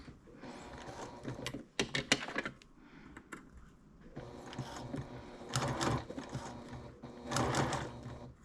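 Sewing machine stitching a wallet-style bag, running in several bursts of rapid mechanical whirring separated by short pauses and handling noises, fairly close.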